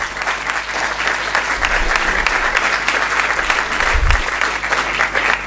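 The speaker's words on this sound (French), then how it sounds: "Vous pouvez, je pense, les applaudir." Audience at a party federal council meeting applauds the executive bureau team, steady loud clapping filling the hall throughout without a break.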